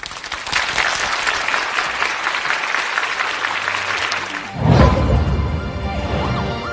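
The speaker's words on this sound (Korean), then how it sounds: "큰 박수로 맞이해 주시기 바랍니다" A studio audience bursts into sustained, dense applause to welcome a guest, loud and continuous, then a sudden low thump or crash cuts across before the clapping carries on.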